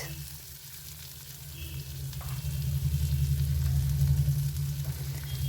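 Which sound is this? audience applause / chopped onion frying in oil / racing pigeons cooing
chopped onion frying in oil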